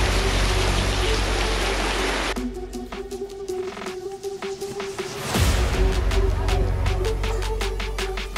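A heavy rainstorm over a rice field roars as dense, loud hissing. It drops away briefly mid-way to scattered patter and drips, then surges back to a full downpour, with no talking.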